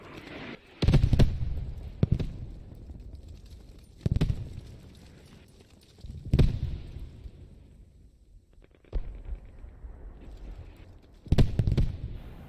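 Naval bombardment from ships over a WWII-era Utah Beach landing in Post Scriptum, with heavy shell blasts landing at irregular intervals, some sharp and close, others duller, between quieter stretches of ambient rumble.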